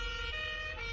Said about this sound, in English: the sounds of sirens got louder